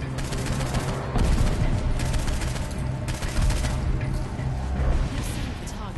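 Sustained bursts of gunfire in the video game Saints Row IV, rapid shots piling into a loud continuous barrage with booming impacts, with talking over it in places.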